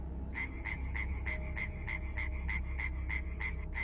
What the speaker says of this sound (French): la grenouille se mit à coasser sans raison